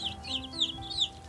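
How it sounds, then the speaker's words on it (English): Cartoon chickens, a mother and father hen with five chicks, cluck in a quick series of bright calls over a steady background music bed. "Lelo Akili anathandiza bambo ake kujetsera Mother and Father Chicken komanso anapiye awo asanu"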